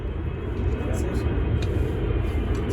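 An airplane passing overhead outdoors near a parked Nissan Leaf, heard as a broad, steady distant roar beneath a voice speaking.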